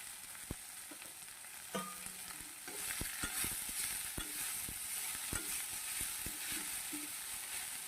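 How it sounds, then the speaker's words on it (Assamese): Leafy greens fry in a wok on the stove, a soft steady sizzle with scattered clicks and taps of stirring, fairly close and quiet with no talking. "এই আমাৰ কেৰাহীৰ ওপৰত শাক বহে দিলাক"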